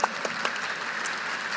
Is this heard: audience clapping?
yes